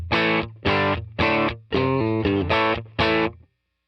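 Distorted electric guitar through a Neural Quad Cortex amp simulator, without compressor, plays a series of chunky chords, seven sharp strummed hits in a steady rhythm, loud and close, ending with a brief fade.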